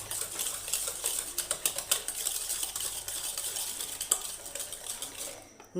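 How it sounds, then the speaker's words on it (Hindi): Quiet, rapid scraping and clicking of a utensil mashing melted ghee and sugar together in a bowl, an irregular stream of soft taps continuing throughout. "ये कप का चौथाई हिस्सा जो है घी और चीनी को अच्छी तरह मैश करना है।"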